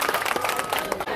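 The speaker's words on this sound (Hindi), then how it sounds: "जोरदार तालियों के साथ आप इनका हौसला अफजाई करें उप सभापति महोदय जी का।" An audience at a community conference in Rajsamand, Rajasthan claps in a dense, steady round of applause that stays close and full before dipping briefly at the end.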